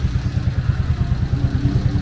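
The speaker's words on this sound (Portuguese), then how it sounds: "Vê o barulho desse comando aqui." A Honda Biz 110i engine, modified, idles steadily, with a fast, even camshaft ticking running through its low rumble; nearby and moderately loud, no talking.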